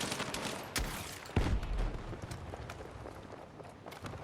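Shotgun blasts in the Battlefield 6 beta during a Domination match, a few sharp booming shots about half a second apart over a busy background of distant gunfire and battle noise.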